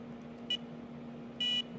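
A hydroponics and aquaponics controller alarm gives two electronic beeps, a short one and then a longer one about a second later, clear over a quiet, low hum.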